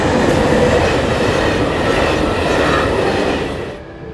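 Train rolling past on rails, a loud, steady rumble and rattle of wagons close by that fades at the end, with no voices.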